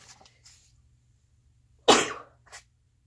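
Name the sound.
sneeze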